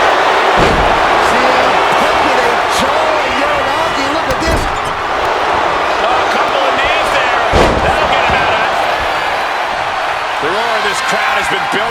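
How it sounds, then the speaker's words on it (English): An arena crowd in the WWE 2K25 wrestling game roars continuously and loudly under excited commentary, punctuated by heavy slams and thuds on the ring. "Crowd has been building, and they are in a fever pitch right now."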